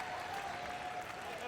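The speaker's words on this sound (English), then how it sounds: "Loud crowd for a Tuesday night." Crowd cheers and applauds in a packed arena during a Germany versus Canada round-robin game at the 2017 men's curling championship, a broad, sustained roar with no gaps.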